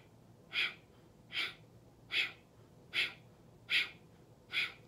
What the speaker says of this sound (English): Using the belly as a pump, and each time that you're breathing